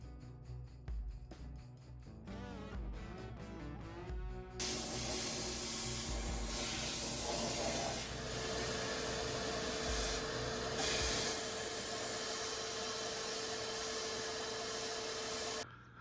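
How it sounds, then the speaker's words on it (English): Satin black spray paint hisses steadily onto sandblasted, etch-primed engine tins from a 1963 Volkswagen Beetle. A few light clanks come first, then one long continuous spray runs for about eleven seconds and cuts off. "Now I'm fixing to put some satin black on them and move on to the next step."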